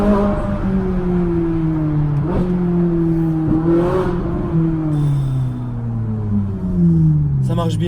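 A sports car with an F1-style gearbox accelerates hard, its close, loud engine note climbing in pitch, then dropping at quick gear shifts before rising again.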